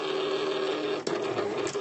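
Silhouette Cameo cutting machine slicing dragon shapes from No Days powder wafers, a steady close mechanical whir and buzz with a brief clicking shift partway through.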